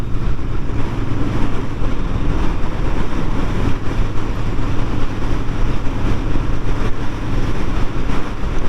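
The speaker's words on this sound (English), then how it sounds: "Oh bloody hell, that wind." Strong wind buffets a rider on a Royal Enfield Interceptor on a private road in Wales, a loud, constant roaring rush that drowns out everything else throughout.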